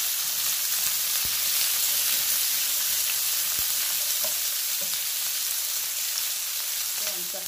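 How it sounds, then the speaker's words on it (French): Onions browning in a pan, a steady hiss and sizzle of frying with a few light clicks of stirring, close and continuous with no talking. "Ensuite, je vais ajouter les oignons. Je les fais dorer également quelques minutes."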